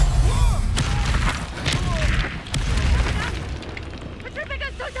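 In Hogwarts Legacy combat, a Confringo blast spell goes off as heavy booming bursts and thumps, dense and close, with voices talking over the fight.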